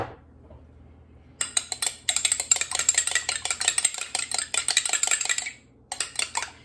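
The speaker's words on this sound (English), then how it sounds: "I'm going to break it into my Pyrex measuring cup. And I'm just going to beat it lightly" A single egg is beaten lightly with a utensil in a glass Pyrex measuring cup, giving rapid, rhythmic clinking taps against the glass in two bursts separated by a short pause, close and clear, with no talking.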